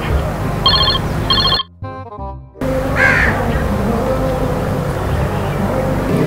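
A phone rings in two short electronic bursts, then the line cuts out briefly before a loud, noisy background returns.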